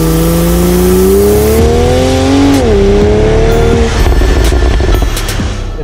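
A Toyota GR Supra 3.0T accelerates hard from a standstill, its engine note climbing loud and close through a gear change before settling into a steadier drone as it pulls away.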